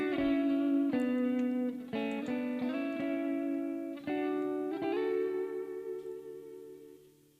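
Electric guitar notes and chords run through a spring reverb in a studio mix, each attack ringing out with a splashy, lingering tail; loud and close, with sustained tones fading toward the end.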